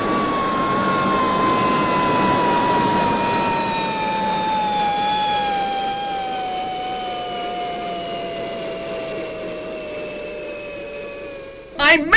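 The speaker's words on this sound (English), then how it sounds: "Downward thrust retros." Fireball XL5 spacecraft firing its downward-thrust retro rockets while landing on Venus: one loud, continuous whining roar that slowly falls in pitch over several seconds, ending with a short clattering burst.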